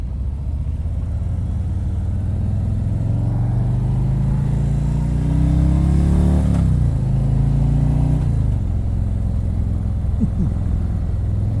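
A 2018 Harley-Davidson Ultra Limited 107 cruiser rolls at slow speed, its deep loping V-twin rumble steady and close throughout, rising slightly in pitch midway as the throttle opens, then settling back.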